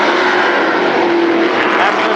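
Sportsman-class race cars running a heat at Berlin Raceway, a dense, loud, continuous engine roar from several cars together, steady throughout with a broad rushing wash of noise.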